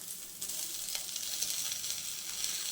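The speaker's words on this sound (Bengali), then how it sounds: "দিয়ে আমি আবারও খুব ভালোভাবে আলু গাজর ভেজে নেব" Thinly cut potato and carrot sizzle in a pan with freshly added chopped tomato, giving a steady, close crackling fry with faint stirring and no talking.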